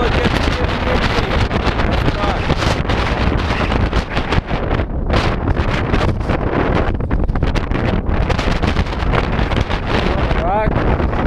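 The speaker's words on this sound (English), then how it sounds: "as I walk right over to here, you can tell it gets windy." Strong wind on a mountain peak buffets the microphone in loud, continuous gusty roaring, with brief lulls and a faint voice beneath.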